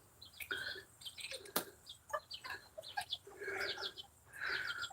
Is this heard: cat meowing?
no